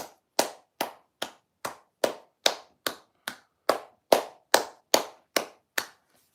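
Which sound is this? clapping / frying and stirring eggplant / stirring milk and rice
clapping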